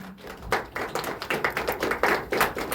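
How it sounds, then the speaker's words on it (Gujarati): An audience at a singing competition claps for the singers, a fairly close patter of many hands in uneven bursts that swell and fade over a few seconds. "એ 5-5 એટલે ટોટલ 10 સિંગર માટે આપણે બહુ બધી તાળી પાડીશું"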